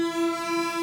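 A Moog synth drone is sent through an Old Blood Noise Screen Violence pedal, giving a steady, buzzing tone rich in overtones that holds unbroken and fairly loud for under a second.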